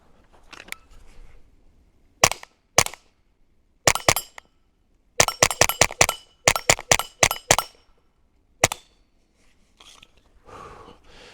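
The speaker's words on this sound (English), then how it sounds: "I'll shoot some steel behind me here at 20" Suppressed rifle shots ringing steel targets at 20 yards, sharp cracks fired singly and in quick clusters of several, each with a short metallic ping, close and loud in otherwise quiet air.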